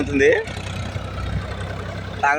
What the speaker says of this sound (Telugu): ఇప్పుడు మా పొలంలో ట్రాక్టర్